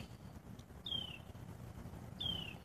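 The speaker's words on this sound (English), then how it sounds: "Those aren't normal birds." Two thin, high descending bird calls ring out a second apart at night in Oklahoma, over a faint, quiet background hush.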